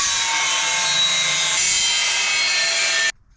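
An angle grinder trims a 5mm steel plate for a VR5 engine block, a loud continuous harsh hiss-like grind that holds steady for about three seconds, then cuts off abruptly.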